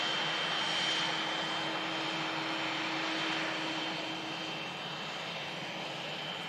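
Jet airliner registered A7-AOC departing Manchester Airport for Doha in thick fog, a steady broadband engine roar with a faint tonal whine that fades slightly toward the end, no voices.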